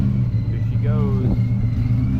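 A Whipple supercharged S650 Mustang GT with long tube headers idles loudly with a deep, steady rumble close by, a voice breaking in briefly over it.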